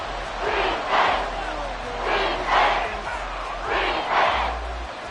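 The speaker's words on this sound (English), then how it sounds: "This crowd turning up the decibel level." A stadium crowd in the Madden 24 football video game roars loudly and steadily, rising and falling in three big surges over the constant arena din, with no talk.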